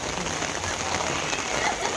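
Rain pours steadily onto surfaces during a Bathukamma festival celebration, a dense continuous patter that is close and fairly loud, with faint bird calls in the background.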